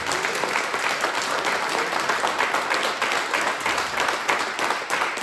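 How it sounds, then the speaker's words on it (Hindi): Dense, sustained audience applause after a theatre play in a Jaipur auditorium, many hands clapping steadily and loudly throughout with no talk over it. "जोरदार तालियों से स्वागत करें।"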